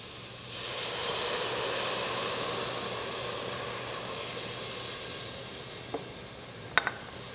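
White wine hits a hot pan with garlic and sizzles in a steady, hissing bed of frying that fades slightly, then two faint clicks of a utensil near the end.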